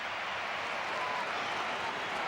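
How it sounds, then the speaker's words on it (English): A football crowd at a Republic of Ireland versus Senegal international applauds and cheers a substitution, a dense, even wash of clapping heard from a distance with no single voice standing out. "A big cheer for Jack Taylor as he goes off"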